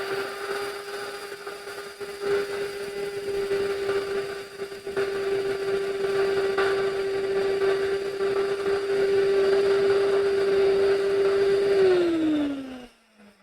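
An electric grain mill grinder runs with a loud, steady high-pitched whine and grinding roar for about twelve seconds, then the motor pitch drops as it winds down and stops.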